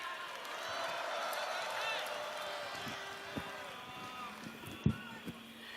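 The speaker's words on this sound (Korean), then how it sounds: "다시 한번 뜨거운 함성 부탁드립니다" Crowd at a rally denouncing Kim Keon-hee: a broad, distant roar of cheering and shouting with scattered claps and whoops, fairly faint overall, with a few sharp thumps near the end.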